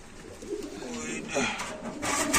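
Pakistani pigeons coo softly in cages at a busy wholesale pigeon market, with people talking nearby over the steady murmur.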